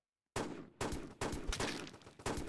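Gunfire from a ten-shot weapon in a video game, four loud close bursts in quick succession, each a sharp crack trailing into a brief rumbling decay.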